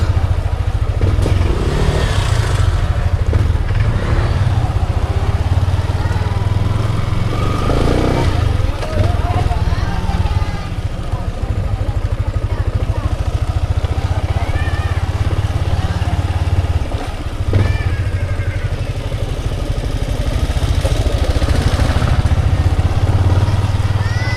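A motorcycle engine runs steadily and loudly throughout, with occasional rattling and faint voices underneath.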